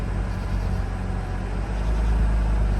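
A Mazda RX-8 rotary engine, struggling after a flooded no-start, idles with a steady low rumbling drone, close and fairly loud with no talking.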